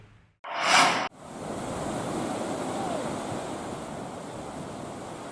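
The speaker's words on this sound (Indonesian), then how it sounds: "Nelayan di Merauke berusaha menyelamatkan kapal mereka yang hanyut dihempas gelombang tinggi saat ditambatkan di pantai Binaloka." High waves crash and surge on a beach at Binaloka, Merauke, where fishing boats are moored, heard as a loud, continuous roaring surf with heavy wind buffeting the microphone, after a brief burst at the start.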